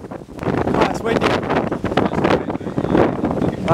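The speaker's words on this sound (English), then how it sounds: "Oh, it's windy." Coastal wind buffeting the microphone near a lighthouse, a loud continuous rumbling roar with gusty swells throughout, a voice speaking briefly over it.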